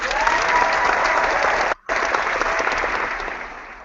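A canned applause effect from a podcast soundboard: steady, loud clapping and crowd noise that cuts out for a split second midway, then resumes and gradually tapers off, with no voices over it.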